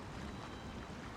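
Waterfall in the online game LOTRO (Lord of the Rings Online): a continuous broadband rushing roar of falling water, steady and fairly close, with no voices.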